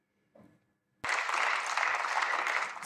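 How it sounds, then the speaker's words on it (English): Applause in the European Parliament starts abruptly after a brief faint sound and near-silence, then holds as dense, sustained clapping from a large chamber audience. "Speaking to applause in the European Parliament."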